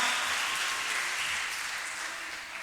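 Audience applause at a summer camp certification ceremony, a steady dense wash of clapping that holds evenly for about two and a half seconds and eases slightly at the end.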